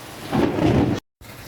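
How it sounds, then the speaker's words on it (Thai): Thunder rumbles through steady heavy rain in an outdoor downpour, a loud rolling swell at its peak before the sound cuts out abruptly and resumes as continuous rain. "ฝนตก"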